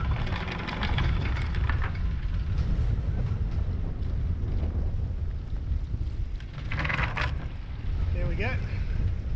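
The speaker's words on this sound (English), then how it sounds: "Bit of wind blowing here, so we're getting some bullets coming through" Gusty wind roars across a boat at anchor between Horn Island and Friday Island, a constant loud low rumble of microphone buffeting, with someone briefly speaking near the end.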